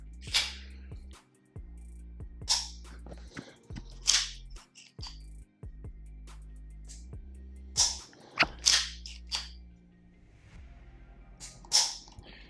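Trigger of a Dark Forge Reaper Kovert Edition gun, a 2011-style pistol, pulled repeatedly to produce a series of sharp, close clicks and snaps spaced a second or two apart over a low steady hum.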